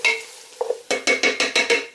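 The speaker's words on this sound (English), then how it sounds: "Onions are getting nice and caramelized." Onions caramelizing in a pan are stirred in a quick series of about six sharp scraping strokes, close and crisp, over a faint sizzle.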